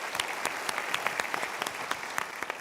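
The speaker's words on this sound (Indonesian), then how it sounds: "kita berikan tepuk tangan untuk mereka." Steady studio audience applause on an Indonesian motivational talk show, moderately loud and continuous with crisp individual claps throughout.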